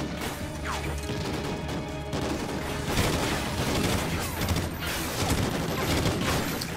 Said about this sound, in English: what kind of machine gun is this?